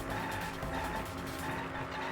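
Racing cars with squealing, skidding tires approach in the video game Danganronpa V3, a steady dense roar that holds loud and unbroken throughout.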